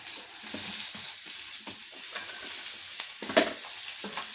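Pepper paneer being sautéed in a pan, with soft sizzling and intermittent stirring scrapes at close range, steady and moderately quiet with no talking.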